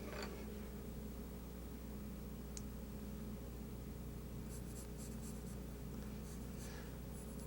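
A pencil scratches steadily across paper while a portrait is refined with the sharpened point, soft continuous strokes with a few lighter taps, faint and close over a low room hum.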